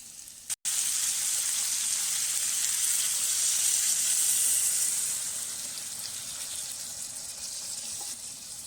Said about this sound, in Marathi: मसाल्यामध्ये चांगली मिक्स झालेली कोलंबी थोडं आपण पाणी घालून घेऊ आता